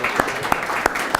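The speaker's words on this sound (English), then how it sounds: "let's do another round of applause for the music." Audience applause at an awards show, a short burst of clapping with a few sharp louder claps standing out over a steady crowd wash, moderately loud.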